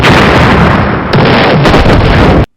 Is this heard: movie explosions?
yes